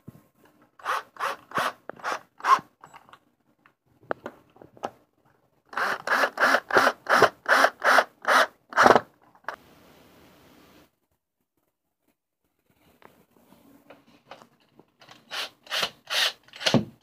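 Screws being turned by hand while reassembling a painted wooden bunk bed, with quick rhythmic rasping clicks in several bursts separated by quiet pauses, close up and without talk.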